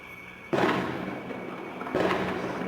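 Gunshots and explosions in a town at night, recorded from a house window: two sharp, distant booms about a second and a half apart, each followed by a lingering rumbling echo.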